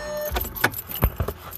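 Car keys jangle and clink in a few quick bursts inside a Volkswagen Golf, close and fairly loud with small metallic rattles between the jingles.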